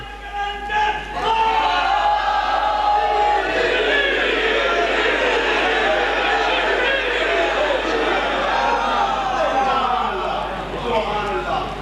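A large audience at a religious majlis gathering chants slogans in unison, filling the space with a loud, sustained wave of massed voices that rises and falls for several seconds.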